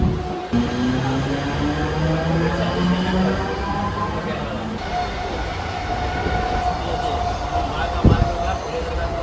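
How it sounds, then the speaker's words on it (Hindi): A Mumbai local train rumbles steadily toward CSMT with rhythmic wheel and carriage noise, metallic tones rising and falling and a brief clank near the end, while someone talks over it. "देखो तो भाई फाइनली मिल चुकी है हमें ट्रेन और अब जा रहे हैं सीधे"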